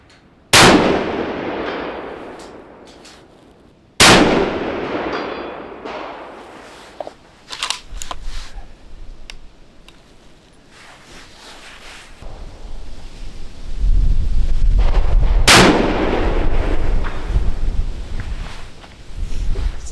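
A Weatherby Vanguard rifle fires two loud, sharp shots at ringing steel, each with a long decaying echo, followed by wind noise, handling clatter and a third loud crack later on.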